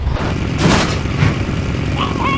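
Movie sound effect of a truck accelerating as the driver floors the pedal: a steady, loud engine roar with a brief hiss near the start, building slightly before settling, with no voices.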